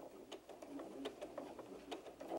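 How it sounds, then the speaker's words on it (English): A sewing machine stitches slowly around the curves of a doll's slip-on shoe, giving a quiet, rapid mechanical patter that runs continuously for a couple of seconds before stopping abruptly. "Once you finish sewing all the way around,"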